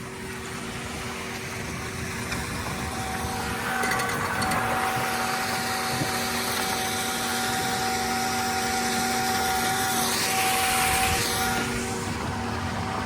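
An EGO POWER+ electric riding lawn mower driving along a road, giving a steady motor whine with a constant tonal hum and gravelly rolling noise that swells slightly midway, close and continuous with no talking.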